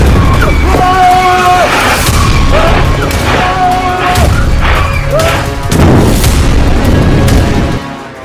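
Loud, deep booms and crashing blasts of Israeli strikes in Lebanon follow one another over a constant rumbling roar, with ringing tones sounding through the din.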